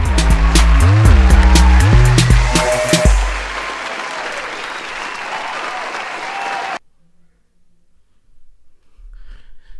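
Applause fills a church, loud and dense at first beneath music and cheering, then fading to a softer patter before cutting off into near silence.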